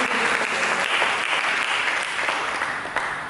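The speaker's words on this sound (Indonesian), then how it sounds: "Mari kita berikan tepuk tangan yang kemuliaan kepada Yesus." A church congregation at an Indonesian sermon breaks into sustained applause, a dense, steady wash of many hands clapping at once, filling the room evenly for a few seconds with no voices over it.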